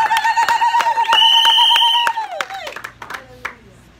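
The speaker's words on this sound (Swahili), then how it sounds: "Pige Mungu makofi na vigelegele." A church congregation claps while high, warbling ululation rises over it, loud and close, with sharp claps scattered throughout as the trilling cries fade out.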